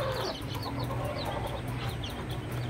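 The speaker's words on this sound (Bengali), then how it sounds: "খুবই একটি ভালো ভেরিয়েন্টের মুরগি" Fayoumi chickens clucking close by in a flock, steady overlapping clucks and short calls layered over one another without pause.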